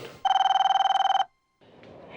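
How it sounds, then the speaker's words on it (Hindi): A mobile phone rings with a steady electronic trill, a rapid pulsing burst for about a second, close and loud, before cutting off into a brief silence and low room noise. "शायद मोबाइल फोन कंपनी वाले का फोन है।"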